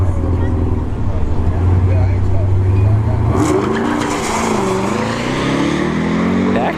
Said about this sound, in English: Back tire and hit for the SRT Durango, but that's not enough. Model S Plaid takes the win.